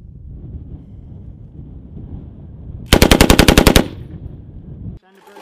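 U.S. Marines fire a machine gun at a range: one loud, rapid full-auto burst of about a dozen sharp cracks, after steady wind rumble and before a sudden quiet tail.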